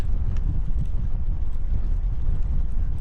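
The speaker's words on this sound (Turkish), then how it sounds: "rüzgar var." Steady, heavy wind on the Turunç hill road near Marmaris, Turkey, buffets the microphone with a constant low rumble throughout, no voices heard.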